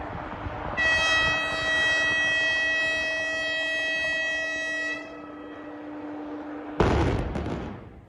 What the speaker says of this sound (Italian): Puntuale alle 13:30 è arrivata l'esplosione che ha abbattuto le 2 palazzine 3 e 4 alte 18 metri e mezzo della caserma Forgiarini